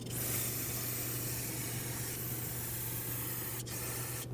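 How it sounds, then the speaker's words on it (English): Brake parts cleaner hisses in a steady, continuous spray onto the back of a new rear brake rotor for a Mercedes-Benz GLC300, close and alone, with a brief pause near the end. "spray the backside with brake parts cleaner to get rid of any oils, fingerprints, grease,"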